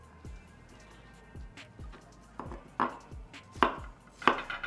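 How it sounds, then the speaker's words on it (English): Knife cutting watermelon into small cubes on a board, a series of quiet, regular chops with a few sharper, louder strikes toward the end. "So I'm just gonna finish cutting this piece up into little cubes, throw it in the bowl"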